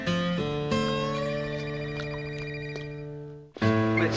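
A telephone ringing indoors, a sustained electronic ring with a harmonic tone that holds for about three seconds, pauses briefly, then resumes, close and clear with no voices.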